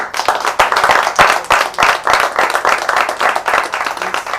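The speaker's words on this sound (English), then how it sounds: "I think you should clap for the organizers." A crowd claps in a loud, rhythmic burst, hands striking together in a fast steady beat that swells and continues throughout.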